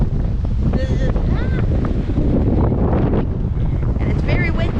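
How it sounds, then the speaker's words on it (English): Strong wind on Castaway Cay buffets the microphone, making a constant loud roar throughout while riding a bike near the sea. Faint voices and bird-like chirps are scattered through it. "it's very windy. Very, very windy"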